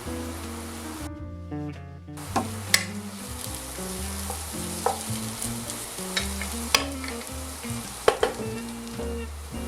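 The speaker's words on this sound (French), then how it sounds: "je vais insister un peu là-dessus pour bien faire tomber mes légumes" Vegetables sizzle and fry in a pan while being stirred for a creamy chicken breast with mushroom sauce, a steady crackling hiss broken by sharp scrapes and clacks of the utensil, close and loud with no talking.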